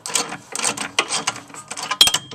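Ratcheting wrench clicks in quick bursts while loosening a 14mm lower bolt on the rear shock of a 2006 Honda Civic EX coupe, close and fairly loud, with a sharper metallic clack near the end.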